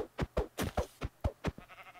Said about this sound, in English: Oh, I heard a sheep.